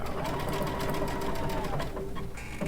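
A Baby Lock Altair sewing machine fitted with a circular sewing attachment stitches steadily. Its motor gives a close, even, continuous whir with a fast needle rhythm and a faint tonal hum, and no talking sits over it.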